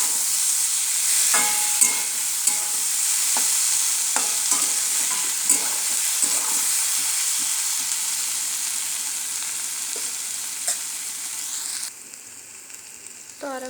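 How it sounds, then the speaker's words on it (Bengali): Taro stolons being stir-fried with chili paste in a pan, a steady loud sizzle with repeated scraping strokes of a spatula, quieting toward the end. "তো ঝাল বাটা দিয়েও আমি আর একটু নেড়ে চেড়ে নেব।"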